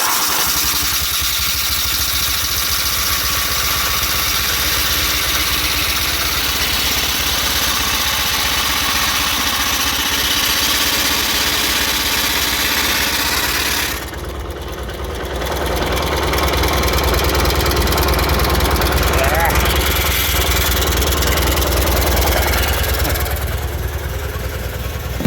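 A motorcycle engine, started with a jump pack, runs steadily at idle with a dense mechanical drone throughout; the tone shifts and briefly dips midway before settling back into an even idle.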